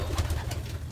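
A young pigeon calls in a loft, giving a few soft, close cooing pulses in quick succession.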